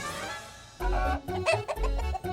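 A person mimics a rooster, letting out a few loud, strained clucking and crowing sounds in short bursts.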